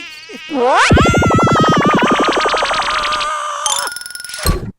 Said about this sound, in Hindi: अरे मच्छरों, अरे परेशान करके रख दिया मच्छरों ने तो।